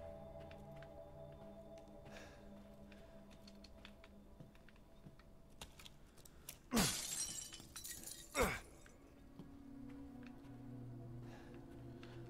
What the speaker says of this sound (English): I know you heard me breaking glass in this bitch.